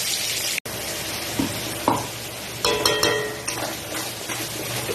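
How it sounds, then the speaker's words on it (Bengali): Ground spice paste fries in oil for an Aar fish curry, a continuous close sizzle broken by several sharp stirring scrapes and spatula knocks against the pan. "মশলাটা অনেকটাই ভাজা ভাজা হয়ে গেছে, তেলটা ছেড়ে এসছে।"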